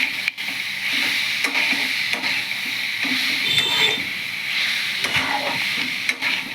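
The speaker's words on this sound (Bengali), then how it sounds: "গুড়টা বেশ ভালো করে মিশিয়ে নেব" A spoon works jaggery into olive pickle in a pan on low flame, soft scraping strokes and a gentle sizzle running steadily throughout, with occasional louder knocks against the pan.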